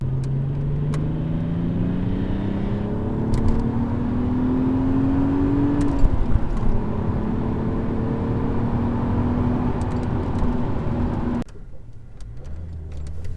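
A 2002 VW GTI cruises on the highway, its steady engine drone and road noise loud and continuous, with a slowly rising engine tone before the sound drops and quiets near the end.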